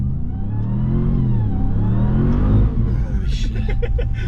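A Ram TRX pickup revs its engine on launch control in snow, a loud mid-pitched roar that climbs and falls in pitch, with people talking close by.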